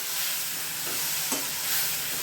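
Oil sizzles and crackles steadily in a pan as tomato and coriander chutney is tempered, with a brief stir or scrape partway through, close and even throughout.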